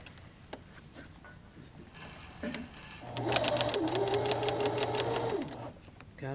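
A sewing machine runs in a steady whirring burst for a couple of seconds, stitching a jacket's front side lining, preceded by quieter handling sounds and a little nearby talk.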